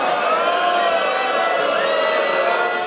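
A studio audience at The Late Show with Stephen Colbert reacts loudly and steadily, with dense crowd noise, cheering and whoops filling the moment without a break.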